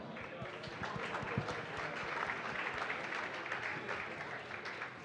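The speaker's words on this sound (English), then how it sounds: "Give yourselves a round of applause." Sustained applause from a gala audience at a justice fundraising event, dense steady clapping filling the room with some voices mixed in.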